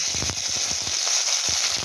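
Ground fennel and ginger paste frying in oil for a Bengali black gram dal with spinach, a steady close sizzle with a few soft stirring scrapes.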